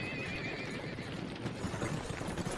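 A horse pulling a carriage neighs with a long, loud whinny that rises over dense, continuous clattering and rumbling of hooves and wheels, with no voices.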